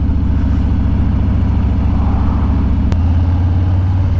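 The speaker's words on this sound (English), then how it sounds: "It is a wonderful sounding exhaust. Really, really lovely rumble we've got going on here" A Harley-Davidson Street Bob motorcycle's exhaust gives a deep, steady, loud rumble on a countryside ride, with a brief shift in engine pitch near the end.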